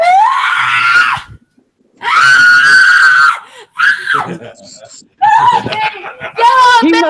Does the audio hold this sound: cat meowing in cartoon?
no